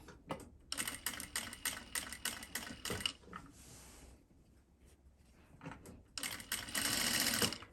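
A sewing machine stitches fabric in quick, rapid bursts of rattling clatter that start and stop, separated by brief pauses and a softer whirring stretch, close up and fairly quiet.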